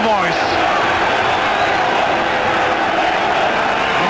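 Massed supporters at a Wrexham versus Anderlecht cup quarter-final keep up a loud, constant roar filling the stadium, with a commentator's voice briefly audible at the start.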